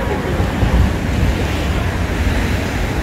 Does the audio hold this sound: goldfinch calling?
no